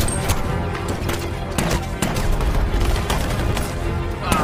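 Gunfire crackles through a film firefight as South Korean agents clash with North Korean soldiers at a lighthouse, dense overlapping shots and bursts with booming low rumble, loud and continuous.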